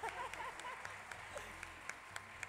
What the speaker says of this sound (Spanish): El aplauso más fuerte.